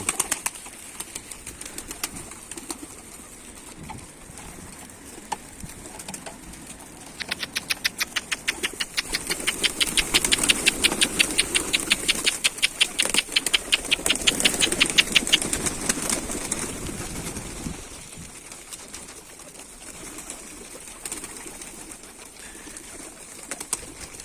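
Many pigeons on a rooftop, with a long stretch of rapid rhythmic wing flapping in the middle, moderately close, over a steady low hum.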